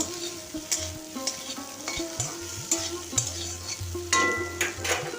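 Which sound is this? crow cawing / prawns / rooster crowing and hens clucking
prawns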